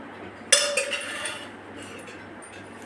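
Single metal clank as a kadai is set down on the stove, followed by a brief faint ring fading into quiet.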